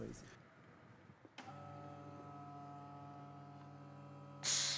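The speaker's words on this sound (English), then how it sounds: "Now let's switch on the pump and I will show you how it works." A Festool vacuum pump for a clamping unit gives a steady mechanical hum with a constant tonal drone, starting abruptly and running evenly, with a brief hiss at the end.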